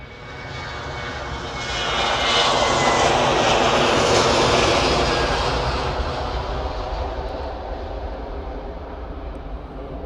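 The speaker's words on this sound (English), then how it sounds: "Next departure is this Ryanair, 737-800 off to Copenhagen" A Ryanair Boeing 737-800 departs Manchester Airport, its jet engines roaring loud and broadband, swelling to a peak and then slowly receding, with no talk over it.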